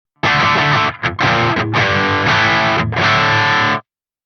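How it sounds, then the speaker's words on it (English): An electric guitar plays heavily distorted chords through a Soldano SLO-100 amp with its level turned down, loud and close, with short breaks between strums. "Bringing this back will clean up the amp sound a bit and you'll have less going into the front end."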